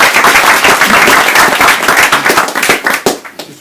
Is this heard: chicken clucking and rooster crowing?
no